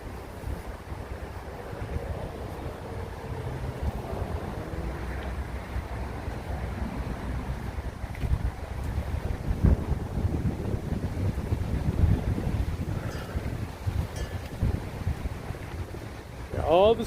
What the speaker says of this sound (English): got real windy and that temperature just plummeted